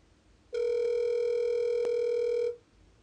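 A voicemail beep on a forwarded phone call: one steady, clear electronic tone lasting about two seconds, alone over faint line hiss.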